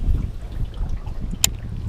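Strong wind buffets the microphone outdoors while fishing from a boat in high winds, a loud continuous low rumble with choppy gusts and a brief sharp knock near the end.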